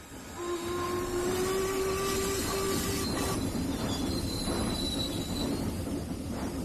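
An animated cartoon steam train pulls away from a station, with a long hiss of steam, high squealing tones from the wheels and a steady rumbling roll.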